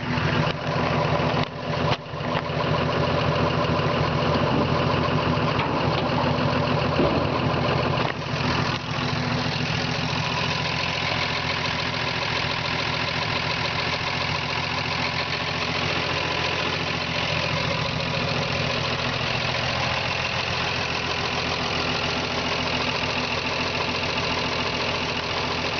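A 1953 Chevy five-window pickup truck idles steadily with its exhaust running, a near, continuous rumble that holds the same even level for the whole stretch with no talk over it.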